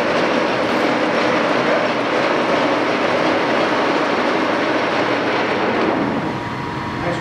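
A Sidney 18-inch metal lathe in mint, unused condition runs at its top speed of 560 RPM, giving a steady, loud, broadband mechanical whir and rumble that holds evenly throughout and eases slightly at the end.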